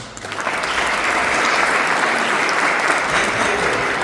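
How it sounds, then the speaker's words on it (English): Sustained audience applause fills an evening Black History Month Hall of Fame induction celebration as a councilman is welcomed, a steady dense clapping from a large crowd, loud and continuous throughout with no speech. "please give a warm round of applause for Councilman John Guncross."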